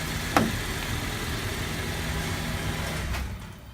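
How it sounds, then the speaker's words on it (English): A 2015 GMC Acadia idles indoors with a quiet, steady hum, then the engine shuts off and the sound fades into near silence. "as you can hear, it's very much a quiet engine"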